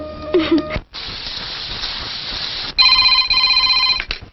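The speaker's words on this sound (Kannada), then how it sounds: "mummy phone" A telephone rings indoors at home: a bright, steady electronic ring, with a stretch of hissing noise between bursts, loud and close.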